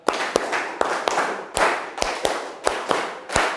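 Students in a classroom clap through a concentration clapping game: about ten crisp, sharp claps falling roughly in pairs at a steady pace, reverberating faintly in the room with no talk.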